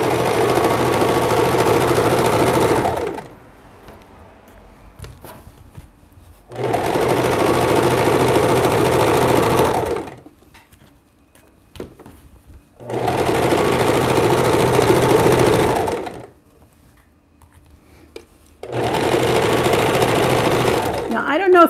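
Sewing machine stitching along a fabric edge to make an apron, running in four steady loud bursts of a few seconds each, separated by quiet pauses.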